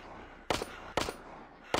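Three loud, sharp gunshots from the zombie shooter Into The Dead ring out about half a second apart, each with a short tail, alone with no talking.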